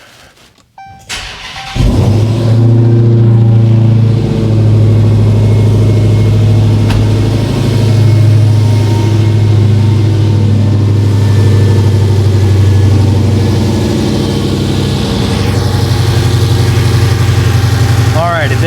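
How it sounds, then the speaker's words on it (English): A Dodge Challenger Demon/Redeye engine cranks and catches after a brief quiet start, then settles into a loud, steady, deep idle that rumbles on close by. "Now we're going to start the car."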